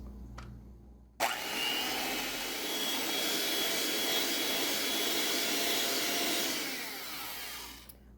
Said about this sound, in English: with my mixer, I'm going to start mixing this until it's light and fluffy